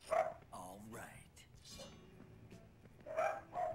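A dog barks several times in the Dead Rising 2 video game, a few short, close yelps spread across the moment, mixed with background voices.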